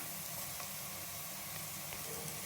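Onions and curry leaves sauté in hot oil in a pan for a brinjal potato chicken curry, a steady close sizzle with faint scraping stirs and no talk.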